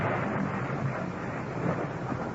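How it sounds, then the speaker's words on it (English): Thunder from a wild electrical storm, a steady low broadband rumble that stays dense and constant throughout, fairly quiet and with no voices. "the city of Rome is racked by a wild electrical storm"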